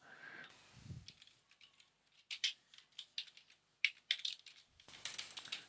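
Computer keyboard typing, a sparse run of crisp individual keystrokes at an uneven pace, close and fairly quiet, with a short rustle at the start and a soft hiss near the end.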